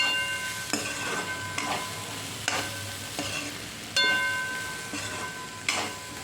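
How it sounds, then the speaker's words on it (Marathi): A spatula scrapes and stirs dry chickpea curry (chhole) with fresh coriander in a pan, a spaced series of distinct scraping strokes over a soft, continuous sizzle. "कोथिंबीर टाकून परत व्यवस्थित परतून घ्यायची भाजी"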